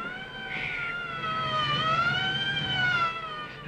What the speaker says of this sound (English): Maybe it's an ambulance or something.